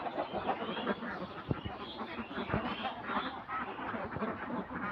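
Ducks quack steadily in a farm duck house, a dense, continuous chorus of overlapping calls from many birds, fairly close and with no talking.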